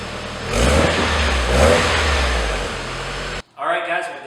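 Car with a quiet performance muffler revving up twice, deep throaty swells that rise and fall before settling into a steady rumble, cutting off abruptly near the end, where a voice briefly speaks.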